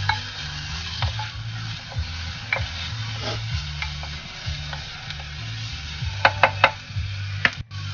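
Garlic sautés in a palayok clay pot, a soft continuous sizzle under repeated stirring scrapes and light knocks of a utensil, with a few sharper clacks near the end.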